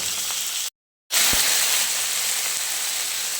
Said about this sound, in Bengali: এবার এগুলো ভেজে নেব মাছগুলো ভেজে নিচ্ছি